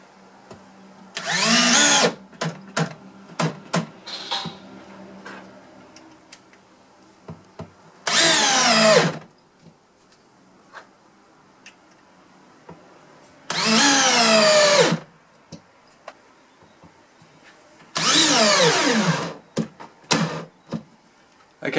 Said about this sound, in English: No holes drilled first, just driving them straight into pine.